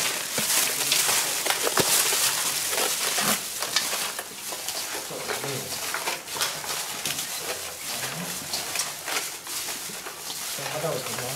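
Galangal and fermented rice dish sizzling on a grill, a steady dense crackle and hiss close by for the whole stretch, with voices talking over it.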